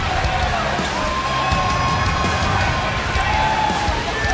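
Crowd at a wrestling show screaming and cheering, a continuous dense roar with high-pitched shrieks rising above it, heard as a sustained wash of noise under a commentator's voice.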